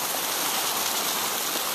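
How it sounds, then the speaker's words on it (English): Hot spring water at Kirkham Hot Springs pours down chutes into a pool, a steady, dense, close rush of splashing and hiss with no voices. "this hot water is coming down, flowing into this fallen pool right here"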